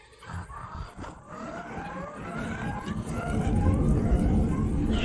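In an animated show, an intrusion alarm siren wails with rising, sweeping tones that grow steadily louder over several seconds, mixed with a low rumbling background.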